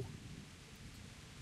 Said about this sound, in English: It is raining harshly.